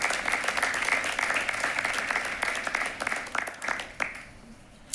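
Applause from a crowd at a board of education meeting as a large group of boys' and girls' track and field athletes and coaches come forward; dense, steady clapping for several seconds that thins and tapers off near the end.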